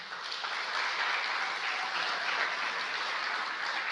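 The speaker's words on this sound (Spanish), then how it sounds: "Dele un aplauso fuerte al Señor." Church congregation applauds during a sermon, producing a steady, even roar of many hands clapping at once, somewhat distant and reverberant, with no voices rising above it.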